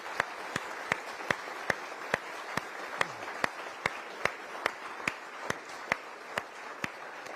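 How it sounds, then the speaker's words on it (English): Audience clapping for two young presenters at a Q&A after a nuclear power announcement, a steady, evenly spaced run of loud, sharp claps, heard plainly over a faint background of continuous crowd applause. "let's end with another round of applause for the two of them"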